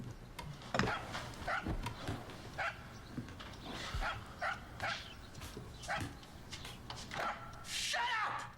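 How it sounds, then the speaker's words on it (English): A small dog in a prison setting in the Tender Loving Care video game barks repeatedly in a steady, fairly regular series of sharp yaps over a low background hum. "The dog's fucking barking because it's in a prison."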